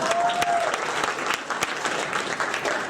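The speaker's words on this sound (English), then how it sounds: "A round of applause for Michael Jordan." A comedy show audience claps and applauds at a moderate level, a steady crackle of many hands with a few sharper claps standing out, continuing without pause.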